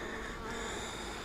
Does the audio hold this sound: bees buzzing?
yes